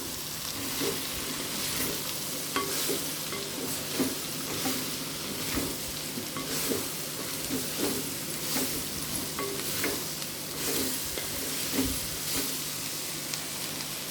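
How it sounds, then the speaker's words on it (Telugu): Cauliflower pieces are stirred into hot oil and spice paste in a clay pot, a continuous close sizzle with rhythmic scraping stirs repeating every second or so throughout. "క్యాలీఫ్లవర్ ముక్కలు వేసేసేయండి ఒకసారి మిక్స్ చేసుకుందాం"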